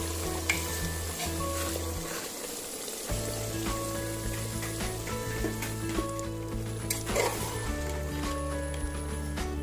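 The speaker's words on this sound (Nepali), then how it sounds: "अब मैले यो कुकरमा तेल लिएको छु र त्यसमा मैले मटनलाई राख्दै छु।" Mutton pieces sizzle steadily in hot oil inside a pressure cooker, a continuous close crackling hiss with a brief dip early on, then a constant low hum running beneath.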